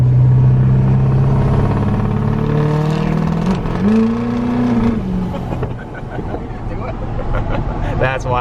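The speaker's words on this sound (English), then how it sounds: "a little exhaust note for you guys" A Duramax L5P diesel pickup truck's exhaust at half throttle, a loud deep rumbling drone that rises and falls in pitch as the engine revs, with voices heard near the end.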